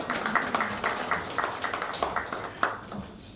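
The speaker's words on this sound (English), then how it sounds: "So I thought you were going to clap for me." An audience claps at an inaugural academic lecture honouring a professor, producing a steady, moderately loud patter of many hands with a few sharper claps standing out near the end.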